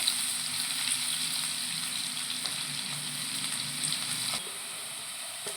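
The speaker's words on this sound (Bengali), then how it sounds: "তেলটা গরম হয়ে গেছে আমি কুচিয়ে রাখা পেঁয়াজগুলো দিয়ে দেব তো পেঁয়াজটা একটু নাড়তে থাকবো" Chopped onions frying in hot oil while being stirred, a continuous close sizzle with faint scraping of the spoon, steady and fairly quiet, no voices.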